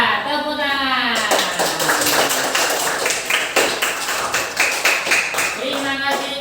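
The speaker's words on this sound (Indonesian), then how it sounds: "Ya, tepuk tangan" A classroom of students clapping for a presenting group in an informal computing lesson, brisk rhythmic claps near and loud, with a voice speaking at the start and end.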